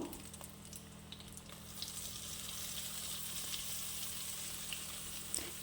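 Cauliflower chilli pieces frying in hot oil, a faint, steady hiss and bubbling that builds slightly over the clip, ending in a brief sharp knock.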